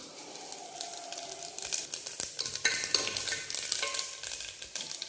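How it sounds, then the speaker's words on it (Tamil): Cumin seeds added after mustard, crackling and sizzling in hot oil for keerai kuzhambu, with dense rapid pops and spatters over steady frying, close and fairly loud, without speech. "கடுகு பொரிஞ்சிடுச்சு, இப்போ சீரகம் ஆட் பண்ணிக்கலாம்."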